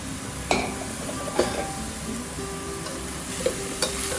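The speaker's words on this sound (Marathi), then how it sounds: "आता आपण हे गाजर किसलेले भाजून घ्यायचे" Grated carrots roast in ghee for gajar halwa, giving a steady close sizzle broken by a few soft scrapes and knocks of stirring.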